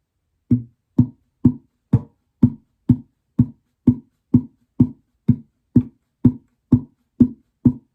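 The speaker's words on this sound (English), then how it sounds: "It's just 16 slaps on the guitar somewhere near the sound hole." Sixteen evenly spaced percussive slaps on an acoustic guitar body near the sound hole, each a short hollow thump, played alone in a steady rhythm.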